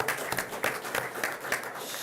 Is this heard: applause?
yes